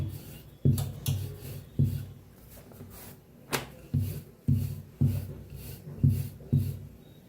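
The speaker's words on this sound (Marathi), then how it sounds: "अशी मोठी पुरी लाटून घेऊया चपाती." A rolling pin rolls dough out into a large, flat puri or chapati, giving close, rhythmic rubbing strokes roughly once a second with soft rasping between them and no talking.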